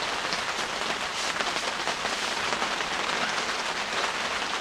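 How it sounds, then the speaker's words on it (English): Rain patters steadily on a screen house at a lake, a dense even hiss of drops with no voices. "it's raining."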